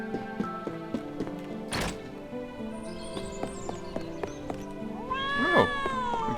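A cat meows in the Trials of Mana remake, a rising and falling meow near the end over soft game music with light clip-clop footsteps.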